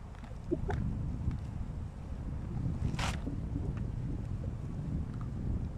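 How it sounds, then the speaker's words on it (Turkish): Wind buffets the microphone at an outdoor apiary, a constant low rumbling roar with one brief brighter gust in the middle. "Hava da rüzgarlı, iyi rüzgar var."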